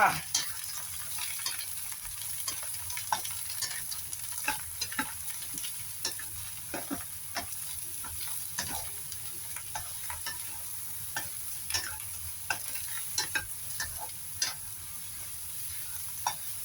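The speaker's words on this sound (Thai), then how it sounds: "ใส่มะเขือเข้าไปจับผัดก่อนนะคะ ผัดมะเขือก่อนจ้า" Long eggplant stir-fried in oil in a pan, with a soft continuous sizzle and frequent light scrapes and taps of a spatula, fairly quiet and close, with no voices.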